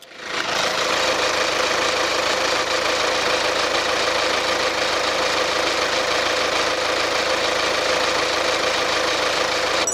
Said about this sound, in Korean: 엔진 소음도 한번 들어보시도록 할게요